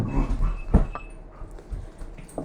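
Dogs roughhousing nearby, with short scuffling bursts, a sharp thump near the start and faint whimpers or yips scattered through a couple of seconds of play, no talking.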